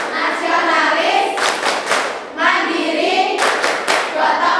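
A group performs the rhythmic PPK clap chant in an Indonesian classroom, sets of sharp unison claps in bursts between spoken chant lines, loud and close throughout.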